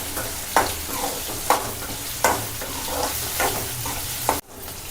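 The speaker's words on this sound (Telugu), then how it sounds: "ఆనియన్ ఫిఫ్టీ పర్సెంట్ సాఫ్ట్ అయ్యేదాకా ఆయిల్లో ఫ్రై చేసుకోవాలి" Onions frying in oil for a Telugu chukkakura tomato curry, a steady close sizzle broken by several sharp spoon-scraping stirs at a regular pace, ending in a sudden clatter and cutoff.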